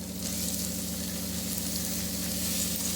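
Cabbage goes into a hot pan with frying peas, a constant close sizzle over a low steady hum, with no voices.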